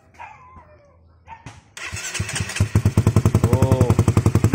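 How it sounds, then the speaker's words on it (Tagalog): A Honda CBR 150 motorcycle fitted with a Yoshimura Alpha muffler starts after some soft handling noises. The engine catches and settles into a loud, steady, rapid idle pulse with a throaty exhaust note. "pakinggan natin yung sound check nito kung anong tunog at kung nagbago ba"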